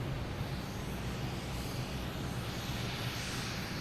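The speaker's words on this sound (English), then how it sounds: "Another Cape Air coming in from Nantucket." A Cape Air commuter plane arriving from Nantucket and descending to land at Boston Logan Airport, a steady broadband engine drone held at constant moderate level throughout, with no voices.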